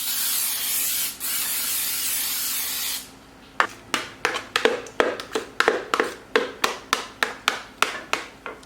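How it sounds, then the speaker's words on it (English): Baker's spray is sprayed into a clear pie dish: one long continuous hiss for about three seconds, then a run of short, sharp, rhythmic spritzes, close and loud. "I'm just going to spray it with my baker's spray."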